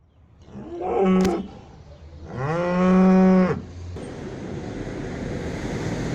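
Cattle moo twice, close and loud: a short call followed by a longer, drawn-out low moo, with a rushing outdoor background noise afterward.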